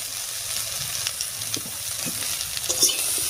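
Vegetables and dried fish with salt and turmeric are stirred in a hot pan, a soft continuous sizzle under intermittent scraping and clinking of a spoon, fairly quiet and without speech.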